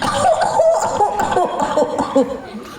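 A short sequence of coughs in a church youth skit, several bursts close to the microphone in quick succession, mixed with some voiced, laughter-like sounds.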